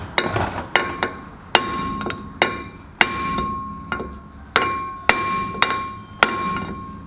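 Sharp metallic hammer taps settle a front wheel bearing on a Land Cruiser 80 in an irregular series, about a dozen blows, each ringing briefly before the next.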